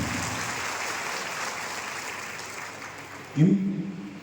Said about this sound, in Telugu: గట్టిగా చప్పట్లతో అభినందనలు చెప్పండి